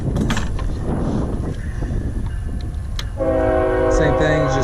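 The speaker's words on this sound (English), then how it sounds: "here my neighborhood train." A train rolls through a residential neighborhood with heavy low rumble, then a sustained multi-tone horn blares loudly for the last second and a half, close by.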